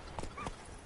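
Roach, the horse in the video game The Witcher 3, trots in a quick series of soft, faint hoof clip-clops over less than a second.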